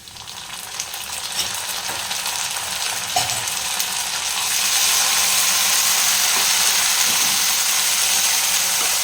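Ginger garlic paste sizzling in a hot pan, a close, bright crackle that swells louder and denser about halfway through and then holds steady, with faint scraping of a spoon.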